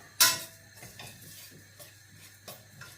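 Semolina roasting in a pan for a Sri Lankan pal roti, heard mostly as a sharp metal clank at the start followed by lighter scraping and tapping of a utensil against the pan over a low steady hum.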